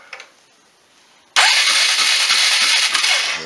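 A Polaris engine turning over as the key is switched, a few faint clicks and then a sudden loud, steady cranking roar with a rhythmic pulse that carries on to the end.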